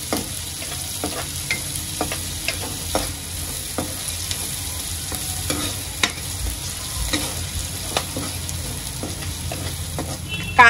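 Onions and asafoetida sautéing in hot oil for Maharashtrian zunka, a steady sizzle broken by repeated scrapes and clicks of a stirring spoon against the pan, close and fairly even throughout.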